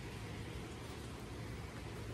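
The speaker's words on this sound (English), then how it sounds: "it's raining" Rain falling outside a ski lodge, a soft, steady, even patter heard faintly with no voices.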